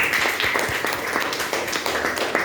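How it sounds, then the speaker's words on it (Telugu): Audience clapping for a presentation at a meeting, a sparse crowd of hands giving quick irregular claps that continue steadily throughout, moderately close. "సార్కి ఒకసారి గ్రేట్ క్లాప్స్ అండి."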